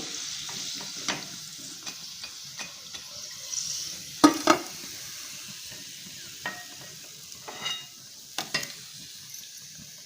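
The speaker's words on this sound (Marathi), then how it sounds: "हे अशा पद्धतीनं तळायचं हे तळून झालेलं आहे" Fried modaks cooking in hot oil give a steady soft sizzle, with occasional louder crackles and scraping clinks from a utensil moving them in the pan, with no talking.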